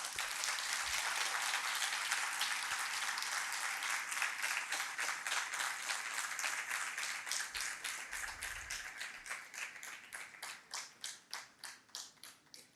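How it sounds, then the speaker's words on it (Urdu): Audience at the 16th Aalmi Urdu Conference at the Arts Council applauding in a hall, dense clapping at first that thins into slower, separate claps as it fades out. "آپ سب ان کے لیے دعا گو بھی ہوں، تالیاں بھی بجائیں"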